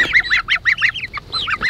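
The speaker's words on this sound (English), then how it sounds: "Guard goose in training." Geese honk on a chicken farm, a rapid run of loud, close calls repeating in quick bursts, with a short pause and then a few more honks.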